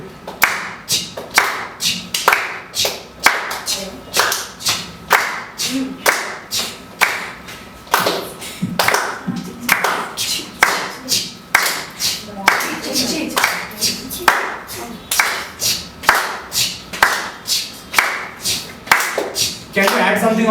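At a workshop, a group claps hands together in a steady, repeated rhythm, sharp close claps falling in regular beats while voices talk and count along underneath.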